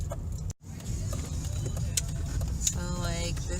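Inside a moving car, a steady low road and engine rumble continues throughout, broken by a brief dropout near the start, with faint clicks and a short voice toward the end.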